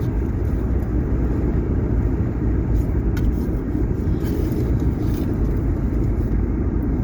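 A car drives along a road on the Kansas–Missouri state line near a dirt road, its steady, loud engine and road rumble continuous throughout with no breaks.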